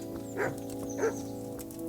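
Two short dog barks in the video game Kingdom Come: Deliverance ring out about half a second apart over a steady low background hum, fairly close and moderately loud.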